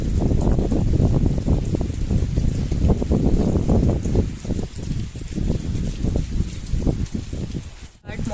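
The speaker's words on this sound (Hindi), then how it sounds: "बारिश तो बंद ही नहीं हो रही है।" Rain falls steadily outside, a broad continuous wash of noise with gusty, uneven swells and a brief sharp disturbance near the end.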